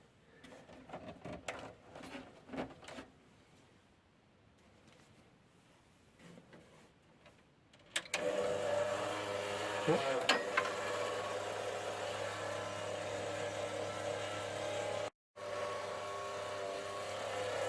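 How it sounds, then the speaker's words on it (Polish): Faint clicks and handling noises, then a worn cooling fan in a Dell OptiPlex 755 computer spins up into a loud, steady whirring hum with a rough, slightly rattly tone, briefly cutting out. "jak słychać wiatrak tu jest dojechany, znaczy wentylator."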